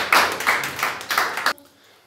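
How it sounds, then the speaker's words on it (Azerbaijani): Audience applause for a quiz round winner, a brief rhythmic burst of claps lasting about a second and a half before stopping abruptly. "bir alqış"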